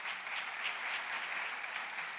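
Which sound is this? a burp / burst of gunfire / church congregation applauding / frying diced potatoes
church congregation applauding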